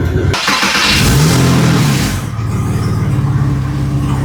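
A $2,700 Porsche engine starting up for the first time after a repair: a loud rev at start-up settles into a steady, close, continuous running rumble with no talking.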